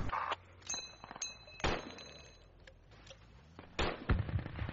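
Frag grenades go off inside a building in a shooter video game, sounding as several sharp, close bangs and bursts scattered irregularly, with metallic clinks and pings in between.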